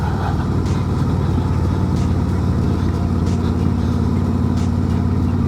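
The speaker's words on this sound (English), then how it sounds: "For stock exhaust, catalytic converter, baffles, everything is bone stock on this thing, and it sounds great for what it is." A stock 2024 Harley-Davidson Road Glide 3 trike with factory exhaust, catalytic converter and baffles rumbles steadily and loudly at a low, even throb, with no talking.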